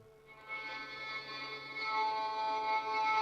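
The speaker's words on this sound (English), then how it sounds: "The other one is a sul ponticello," Sampled violin bowed sul ponticello from Emergence Audio Violin Textures: a sustained, glassy, bright tone rich in upper harmonics, swelling gently in loudness over a steady held note, with no voices.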